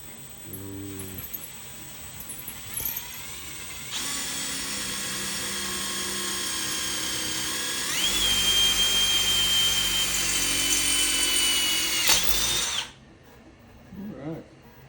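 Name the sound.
power drill drilling while installing a swing arm mount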